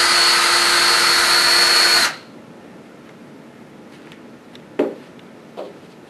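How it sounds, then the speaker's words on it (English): Power drill running in reverse to unwind ripcord from cable armor, a loud steady whine for about two seconds that stops abruptly, followed by a couple of faint clicks and handling knocks. "When you reach the cut, reverse your drill, and you can unwind your"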